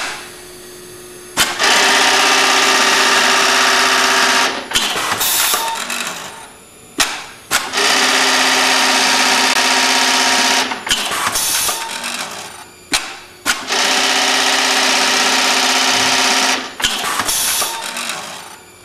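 A Brother RH-9800 industrial buttonhole sewing machine runs through three loud, even cycles of fast mechanical whirring, each lasting a few seconds and separated by clunks and short pauses.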